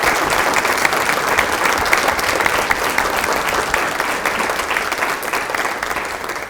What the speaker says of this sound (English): Let's give Howard a big round of applause